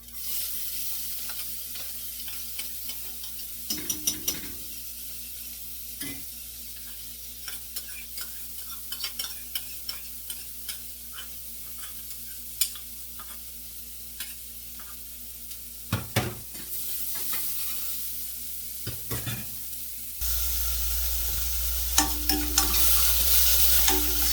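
Onions frying with cumin in a pan over a lowered flame, a steady sizzle with occasional stirring clatters, growing louder toward the end.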